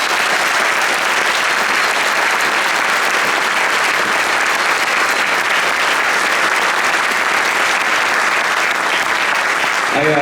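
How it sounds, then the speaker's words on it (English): Loud, sustained audience applause for a high school student choir at an honors music festival, a thick wash of clapping at constant volume from start to finish, filling the room without any speech. "Can we have another round of applause for these kids?"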